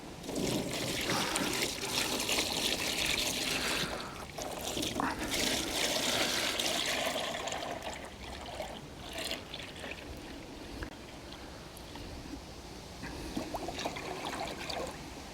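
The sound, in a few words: sugar water being poured into a beehive feeder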